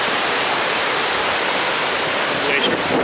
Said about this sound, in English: Nice view of the waterfall.